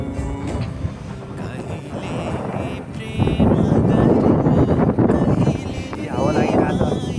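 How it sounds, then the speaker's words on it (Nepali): Wind gusts across an open hilltop ridge, buffeting the microphone in loud rushing waves that swell stronger midway, with a person talking over it. "हावा लागिरहेको छ"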